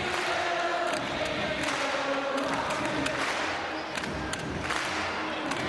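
Large arena crowd at a netball World Cup semi-final, England versus New Zealand at Sydney Olympic Park, singing and cheering in a dense, steady roar with scattered thumps, a continuous wash of voices throughout.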